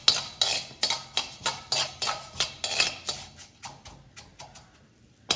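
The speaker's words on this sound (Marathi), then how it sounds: "मोहरी अजून फुटफुटत आहे" Mustard seeds and fenugreek spluttering in hot oil while making Konkani-style hinga mirsang, a rapid train of sharp crackling pops about twice a second that slowly thins out toward the end.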